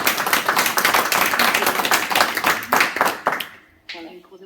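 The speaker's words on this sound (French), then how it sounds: "on va l'applaudir" Dense applause from an audience at an interactive talk, loud and continuous for over three seconds before breaking off abruptly, followed by a brief faint voice.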